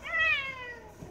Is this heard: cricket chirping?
no